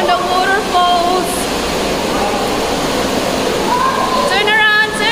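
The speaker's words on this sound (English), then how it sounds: "at the Team Lab Tokyo waterfalls, walking on the waterfalls." Water rushes continuously at the teamLab Planets waterfall installation in Tokyo, a steady, close splashing hiss with children's and adults' voices calling over it.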